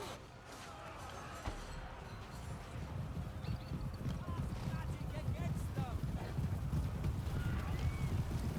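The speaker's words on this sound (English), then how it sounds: "Dirty Empire using armored horses." Armoured Empire horses gallop across a Warhammer battlefield, a busy thudding clatter of many hooves that grows steadily louder, mixed with faint battle noise and an occasional whinny.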